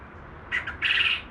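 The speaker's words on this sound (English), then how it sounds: "But for the most part, they only crow" A Coturnix quail rooster crows close by, giving a short, shrill two-part squawk followed by a longer harsh trill, with no other sound around it.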